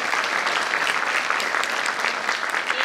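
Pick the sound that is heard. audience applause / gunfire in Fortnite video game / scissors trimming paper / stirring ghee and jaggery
audience applause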